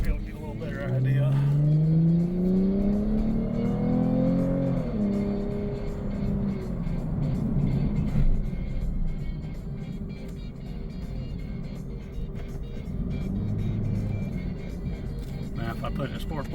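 Lexus IS350 F-Sport exhaust fitted with a Borla Type-S axle-back muffler, heard from inside the car as the engine revs up and pulls through gears, a steady droning tone that rises in pitch then settles into a cruising hum.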